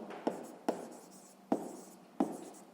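Handwriting a math solution on paper, with four distinct pen taps and scratchy strokes at an irregular pace, close and clear with no talking.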